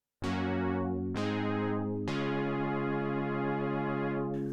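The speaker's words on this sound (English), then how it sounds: "So this is the sound of just one oscillator with the polymodulation." A single Sequential Prophet 5 oscillator with polymodulation sounds three sustained, bright, buzzy notes in succession, each starting sharply, with no voices.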